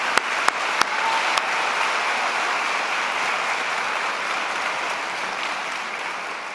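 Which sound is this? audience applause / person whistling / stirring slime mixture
audience applause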